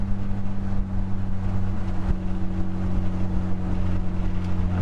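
A loud, steady exhaust from a Mitsubishi Lancer Evolution 8 with a tubular header drones with a deep rumble and slight waver, holding at a constant idle-like pitch throughout.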